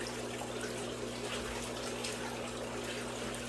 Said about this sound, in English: Which I'm just going to rinse off enough, but these are just ceramic beads